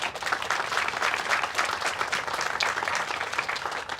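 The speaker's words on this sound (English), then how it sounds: "please, another round of applause for them" Sustained crowd applause honoring a community advisory committee at an outdoor park groundbreaking ceremony, a dense, steady wash of many hands clapping throughout with no pauses.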